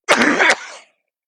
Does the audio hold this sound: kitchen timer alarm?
no